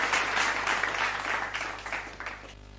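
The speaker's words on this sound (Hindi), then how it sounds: "मैं चाहता हूं एक जोरदार तालियों के साथ आपका भी सम्मान आपके द्वारा हो" A crowd at a motivational speaking event gives a hearty round of applause, many hands clapping together loudly in uneven bursts before it thins and fades at the very end.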